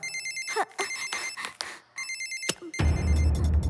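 A phone rings in repeated electronic bursts at a steady rhythm, then a louder, noisier sound cuts in near the end.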